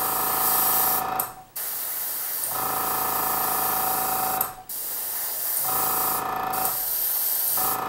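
An airbrush sprays base coat onto ogre miniatures in three sustained bursts of bright, loud hiss, each cut by a brief quiet pause as the trigger releases, close to the microphone.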